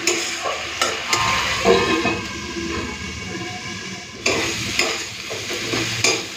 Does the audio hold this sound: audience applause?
no